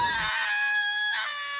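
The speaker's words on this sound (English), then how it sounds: "that teenage boy's yell" A cartoon teenage boy from Phineas and Ferb lets out a shrill, sustained yell that holds for over a second, loud and close, with a brief low sound at the very start.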